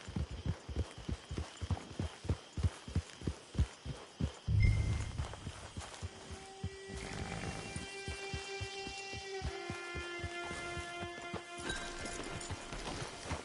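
Horse hooves clip-clop at a steady gait in Red Dead Redemption 2 Online, then slow and stop. Tonal game ambience and music swell as the rhythmic hoofbeats fade.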